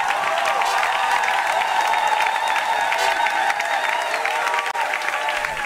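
A church congregation at a Christmas Day Sunday service held under sheds at a nursery school claps and cheers, a dense, steady wash of applause that runs unbroken throughout with a faint murmur of voices mixed in.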